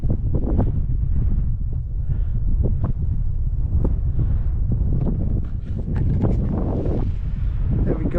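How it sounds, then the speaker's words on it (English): Gusty wind on a Welsh hillside, Mynydd Maen, buffets the microphone in low rumbling bursts, loud and close, with no talking. "A bit windy, but I don't think it's going to be overly windy."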